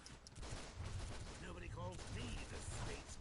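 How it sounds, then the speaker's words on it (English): Dual pistols fire in rapid bursts during DC Universe Online combat, a dense run of close gunshots mixed with other game effects and voices, with the shooting steady throughout. "What I love of the dual pistols is how you have some mobility with your character"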